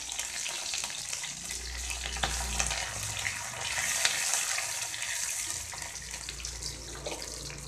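Curry leaves frying in hot oil with green chillies for egg podimas, a steady close crackling sizzle that runs without a break.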